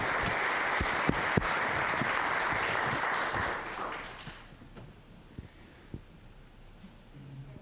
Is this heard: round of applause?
yes